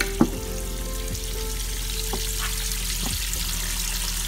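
Water from an aquaponic fish tank sprinkles over lava rock in a barrel, a steady broad wash of trickling and splashing with a few brief louder splashes, close and continuous with no talking.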